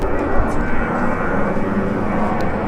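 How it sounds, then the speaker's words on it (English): A fixed-wing airplane passes overhead near Ontario International Airport in California, a loud steady engine roar filling the street soundscape throughout. "Hold for a plane because we're by the Ontario International Airport."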